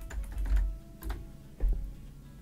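Quiet keystrokes on a computer keyboard during a Blender Grease Pencil session, a few soft clustered taps spread over a couple of seconds with no voice.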